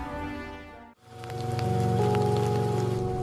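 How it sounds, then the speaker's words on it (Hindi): Heavy rain pours steadily and loudly, a dense continuous hiss that briefly cuts out, then resumes over a low background tone. "बारिश बहुत तेज है, कहीं भीग न जाना।"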